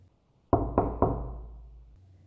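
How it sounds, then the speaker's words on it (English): Three hard, evenly spaced knocks pound on a bathroom stall door, close and loud, each booming thud echoing briefly before fading into a quiet room. "3 hard knocks pounded against the door to my stall"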